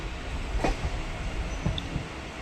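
A local EMU train on the Bongaon line near Barasat passes at speed, a steady close rumble of wheels on rails with faint clicks and a brief high squeal, with no voices.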